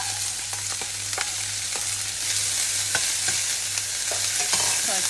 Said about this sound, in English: I have in here some tomato, scallion, onion, pepper, thyme that I'm going to saute.